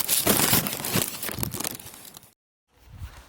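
A plastic garbage bag full of collected litter, with a sock, a boot and paper, is handled in quick crinkling bursts, then briefly goes silent before a little more rustling.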